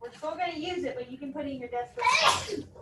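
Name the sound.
sneeze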